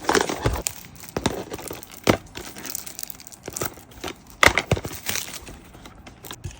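Plastic shrink wrap being peeled and torn off a European-edition PS4 Shadow of the Tomb Raider game case, with close, irregular crinkling, crackling and sharp snaps and no talking.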